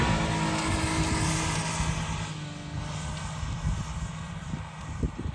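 A Mitsubishi Pajero Mini climbs a steep, loose, deep volcanic slope with its small engine held at a high, steady drone, mixed with wind rush and occasional low thumps from the rough ground.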